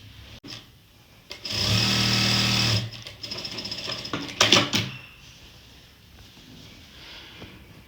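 A sewing machine stitches a belt onto a plain straight salwar, running in one steady loud burst of about a second, then a few shorter uneven runs before quieting.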